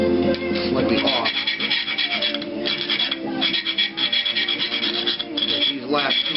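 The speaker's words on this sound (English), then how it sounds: "taking my file, making the hole a little bit bigger" A hand file rasps back and forth in a hole in a metal brake caliper bracket for a go-kart reverse trike, giving repeated close scraping strokes.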